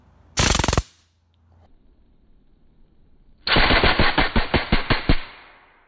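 A full metal airsoft gun, reverse-engineered from a NERF blaster, fires one loud sharp blast, then after a pause lets off a rapid burst of about ten close, punchy shots in automatic rhythm.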